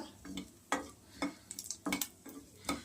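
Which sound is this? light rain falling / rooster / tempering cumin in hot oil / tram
tempering cumin in hot oil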